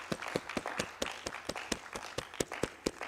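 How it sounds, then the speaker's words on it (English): An audience at a national social protection report launch applauds a minister's signing, a fairly sparse crowd clapping with distinct, rhythmic individual claps that sound close and moderately loud. "Let's applaud."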